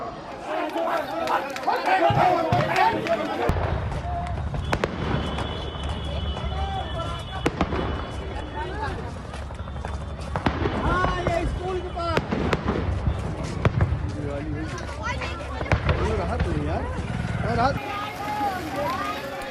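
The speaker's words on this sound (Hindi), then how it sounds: "और देखिए धमाके" Repeated explosions at a firecracker factory go off as bangs and bursts at irregular intervals, some near and loud, amid a crowd's chatter and someone talking over them.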